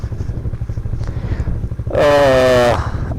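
Motorbikes rumble along a rough alternate mountain route past a traffic jam after Chang La, their engines close and steady, then a loud horn blares for about a second near the end.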